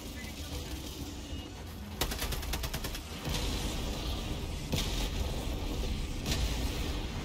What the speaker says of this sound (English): Oh god, that's a 380 barrage.